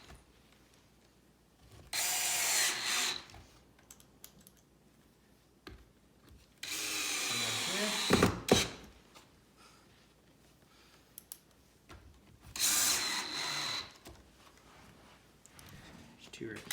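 Power drill driving screws into a wooden farmhouse shoe bench, with three separate whirring bursts of a few seconds each, close and fairly loud, separated by quieter handling and talk between them.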